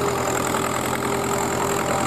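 Vintage Fiat tractor engine, a restored sixty-year-old machine at a ploughing festival, idling steadily and close with a continuous low rumble and faint knocking, with no talk.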